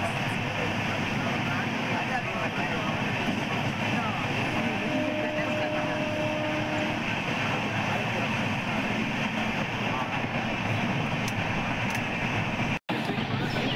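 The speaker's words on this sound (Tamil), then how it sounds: "இப்போ நம்ம திட்டை ரயில்வே ஸ்டேஷனை ஸ்கிப் பண்ணி போயிட்டுருக்கோம்." Onboard the 07192 Madurai to Kacheguda special express running through Thittai railway station without stopping, a loud, continuous rumble and rattle of the moving train that stays steady throughout.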